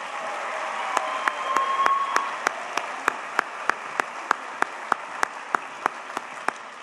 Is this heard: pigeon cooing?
no